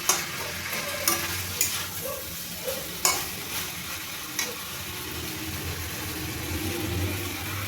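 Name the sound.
fried chuno (morola) fish being stirred in a pan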